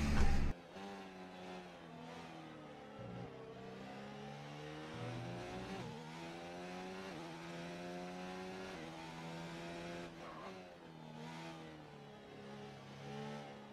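A Formula 1 race car engine in the F1 2019 video game at the French Grand Prix whines continuously and loudly, its pitch climbing and dropping through repeated gear shifts, with a sharp burst at the start.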